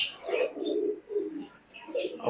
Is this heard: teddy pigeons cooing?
yes